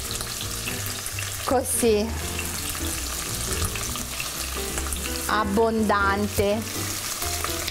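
Rabbit loin, liver and chopped vegetables frying in a pan, a loud continuous sizzle with occasional stirring, while someone speaks briefly over it.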